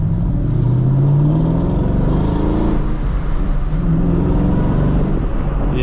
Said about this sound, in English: But that exhaust sound, for the sound itself and the demeanor, I think sounds so much better